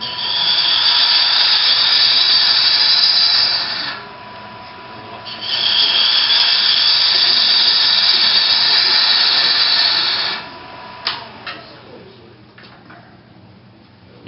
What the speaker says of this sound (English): You notice I'm shutting the lathe off every time I move the tool rest.